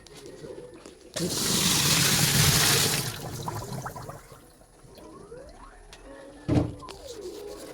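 Water poured into a washing machine under repair, a loud rushing gush for about two seconds that then fades, followed by quieter handling knocks and a brief splash; people talk nearby.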